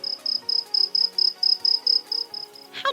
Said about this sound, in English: How do crickets make that sound?